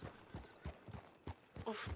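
Horse hooves in a Western roleplay video game give a steady, faint clip-clop in an even walking rhythm, soft and slightly distant.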